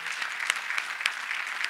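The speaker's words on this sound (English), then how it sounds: "Let us once again clap for Master Jesus" Church congregation clapping after a testimony, a short stretch of moderate, scattered handclaps with a few sharper claps standing out.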